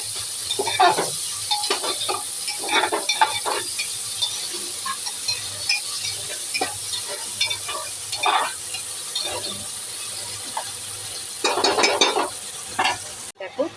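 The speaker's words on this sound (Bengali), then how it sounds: "পেঁয়াজ ভাজাটা হয়ে এসছে" Sliced onions fry with whole garam masala in a pan for Bangladeshi-style kacchi biryani. A steady, soft sizzle runs underneath while a spoon scrapes and stirs in irregular bursts close by, and no one speaks.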